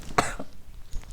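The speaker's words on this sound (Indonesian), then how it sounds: "sampai batuk" A single sharp cough bursts out near the start, followed by a smaller throaty catch and a faint trailing sound, in a quiet indoor setting with no talking.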